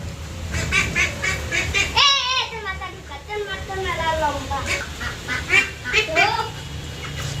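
Large ducks quack and honk in a clustered, agitated flock nearby, bursts rising and falling throughout while people talk over them.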